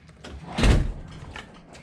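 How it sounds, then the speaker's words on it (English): A shop door is unlocked and swung open: a single close, muffled thud and rattle midway through, with faint handling noise before and after and no talk. "I don't know how to unlock a door while I'm talking on the camera, apparently."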